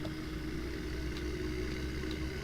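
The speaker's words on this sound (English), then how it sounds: "This tractor, I feel like I use this tractor and like this tractor only." Tractor engine in Farming Simulator, a steady low idling drone with an even hum, constant and moderately loud with no voices.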